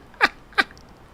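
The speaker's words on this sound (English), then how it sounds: "Cat." A cat in the video game Fields of Mistria gives two short, bright meows about a third of a second apart, close and clear over a quiet background.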